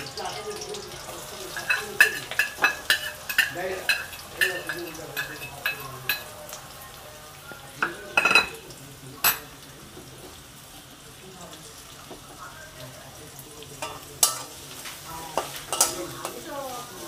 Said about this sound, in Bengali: এবার এই কাঁচা লঙ্কা আর পেঁয়াজকে একটু ভেজে নেওয়া হচ্ছে।